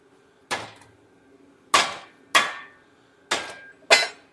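Five sharp hammer blows ring out while assembling a 394 stroker engine, each a crisp metallic strike with a short decay, spaced unevenly with quiet gaps between.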